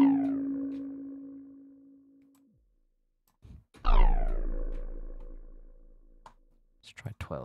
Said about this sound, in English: Might make an interesting bass sound again.